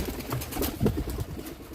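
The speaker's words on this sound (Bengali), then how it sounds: "বাঘা কবুতর অনেক সুন্দর এক জোড়া কবুতর" A pair of Bombay pigeons coo softly at close range, giving a few low, throaty pulses over a brief quiet stretch.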